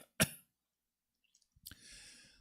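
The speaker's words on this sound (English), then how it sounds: "I'm coughing just thinking of all the smoke" One sharp cough close up, then a short pause and a second raspy cough with throat clearing, in an otherwise quiet room.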